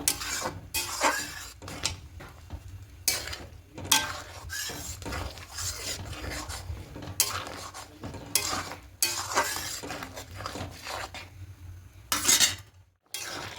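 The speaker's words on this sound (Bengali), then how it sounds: "এবার সব কিছু খুব ভালো করে মিশিয়ে নেব।" A spoon stirs mung dal with jaggery in a cooking pot, giving repeated scraping and clinking strokes in an uneven rhythm, close and fairly soft, with no talk.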